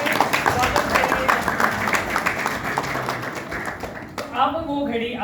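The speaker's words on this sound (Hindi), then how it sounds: "जोरदार तालियों से स्वागत करेंगे।" A university drama club audience at ITM University claps to welcome a speaker, a steady patter of crowd applause with a voice briefly heard over it.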